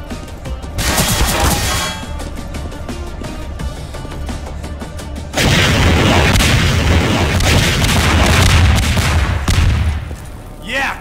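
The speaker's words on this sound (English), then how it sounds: "and then I'll blow this APC to hell!" Missiles blasting an armoured personnel carrier in a Half-Life 2 prequel mod, heard as a run of heavy booms and clanging impacts with rattling gunfire, a brief lull, then a second dense, loud barrage that fades at the end.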